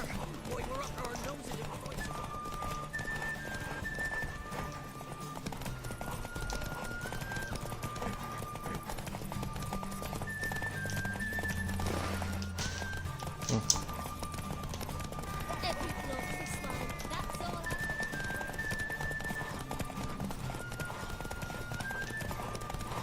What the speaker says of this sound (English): The final of the Erasmus Vegelbud Memorial Derby is over